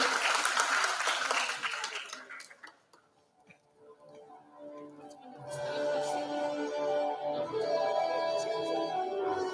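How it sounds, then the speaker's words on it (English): Audience applause at a closing ceremony of an English festival, a broad burst of clapping at the start that fades out around three seconds, followed by sustained tonal music playing in the hall. "Let's give a big round of applause"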